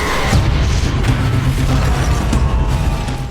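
A deafening explosion of stored ammonium nitrate fertilizer in a TV drama fire scene, a loud sustained roar and rumble with creaking, crackling debris throughout, no voices.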